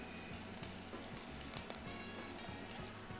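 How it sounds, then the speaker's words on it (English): Tomato paste frying in a pot for spicy vodka rigatoni, a steady close crackling sizzle that runs continuously under occasional soft stirring taps, fairly quiet with no talk. "Now we're gonna basically stir this tomato paste until it gets nice and smoky."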